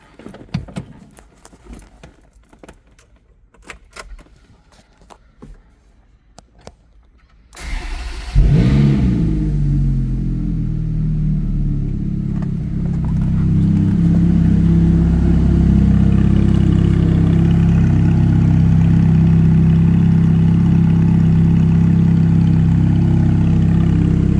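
A 2005 Ferrari F430 cranks and fires up after a stretch of quiet clicks and rustle, then settles into a loud, close, throbbing idle with a few blips of revving.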